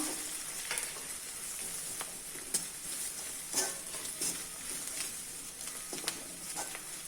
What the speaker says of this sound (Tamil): இது ஒரு 2 மினிட்ஸ் வதக்கலாம், பச்சை வாசனை போகணும்.